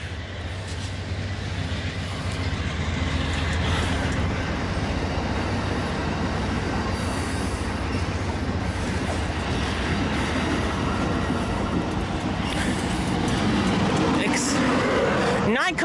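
Long passenger train of nine coaches, including Superliner carriages, rolls past close by in rainy weather with steady rumbling and clattering wheels, faint squeals, and excited voices over it.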